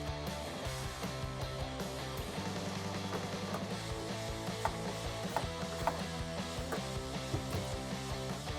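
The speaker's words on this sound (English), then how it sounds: "grab your socket and tighten them down one by one" A socket wrench ratchets as taillight nuts on a 2005-2009 Mustang are tightened, quiet repeated clicking bursts with faint metallic taps and handling noise, close but low in level.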